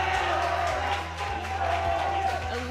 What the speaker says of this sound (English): Let us hear you cheer for your team.